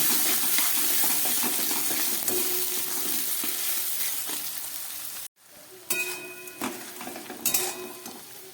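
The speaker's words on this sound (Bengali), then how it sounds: "পেঁয়াজটাকে এবার আমি একটু ভালো করে ভেজে নেব।" Two chopped onions frying with bay leaves in a pan, a dense continuous sizzle and hiss with stirring scrapes, briefly cut off then resuming with utensil clinks against the pot.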